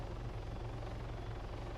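A helicopter flies in the DayZ video game on the Livonia map, its rotor throbbing in a fast, steady low pulse that stays constant and fairly loud throughout, with no voices.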